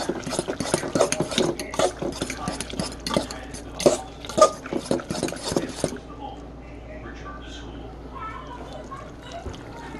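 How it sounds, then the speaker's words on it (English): A fork stirs a butter mixture in a bowl while preparing broiled pork chops, giving quick scraping and clinking strokes for about six seconds, then a quieter stretch with a low steady hum behind it and someone talking over it. "And just stir it up. And you get it mixed up good."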